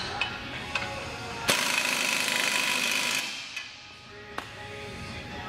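An impact wrench tightens the clamp on a chrome GM exhaust tip, a loud sustained mechanical whir of about two seconds in the middle, with a few sharp taps and clinks before and after.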